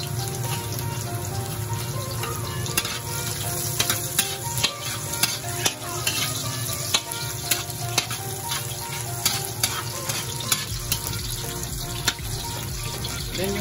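Garlic frying in a pan while Filipino coconut-milk snail adobo is cooked, a steady close sizzle with scattered stirring clicks and scrapes running continuously throughout.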